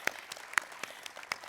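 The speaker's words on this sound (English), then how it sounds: "A round of applause for yourselves." Scattered, sparse hand claps from a graduate business school class at an investiture celebration, a handful of distinct slaps spaced unevenly over a moment, fairly quiet.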